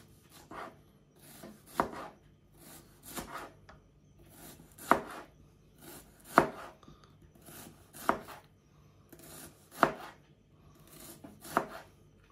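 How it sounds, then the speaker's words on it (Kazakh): Knife chopping small green onions into thin rings on a board, about a dozen distinct cuts at a slow, uneven rhythm, close and fairly quiet with no talking. "Жуамызды домалақтап тураймыз, ұсақтап"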